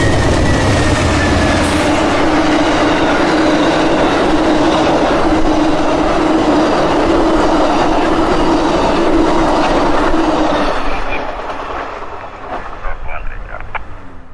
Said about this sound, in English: Amtrak 91 was just coming out of his station stop and headed to Tampa.